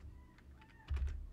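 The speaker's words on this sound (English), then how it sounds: "type units and then click enter" Typing on a computer keyboard at a desk, a few quiet scattered keystrokes followed by a firmer press, close and faint against a low background hum.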